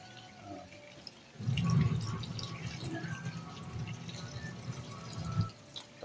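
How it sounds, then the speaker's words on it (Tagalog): Broth being poured into a pot of chicken tinola, a steady liquid splash and trickle lasting several seconds at moderate loudness, close by, with faint kitchen background and no talking. "lagyan natin siya ng sabaw"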